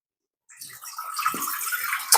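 Water poured into a cooking pot to blanch string beans: a steady rushing pour that begins after a short silence and runs unbroken for about two seconds, close and fairly loud.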